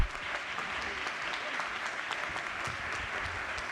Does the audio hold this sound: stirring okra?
no